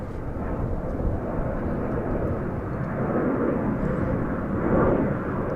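A Boeing airliner departs DFW airport with a low, steady jet roar at middle distance, swelling gently toward the end.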